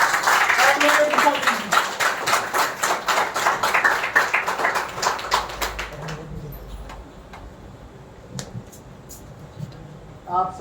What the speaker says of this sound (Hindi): मैं चाहता हूँ कि एक बार रिहर्सल में आप उनके लिए जोरदार तालियां बजा के बताएं।